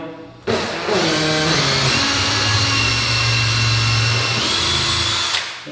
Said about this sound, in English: I am just going to drill these down